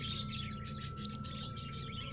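Pet birds in an aviary in Antipolo chirp and tweet steadily as a busy, overlapping chorus of small calls, with a steady hum running underneath and no talking.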